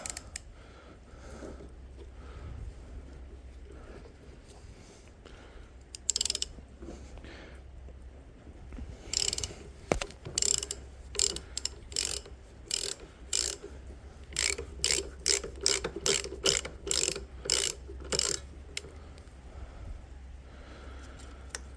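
A half-inch impact gun works a bolt loose in a workshop on an International truck, delivering a series of sharp, close rattling bursts that grow more frequent toward the end, with quiet gaps between.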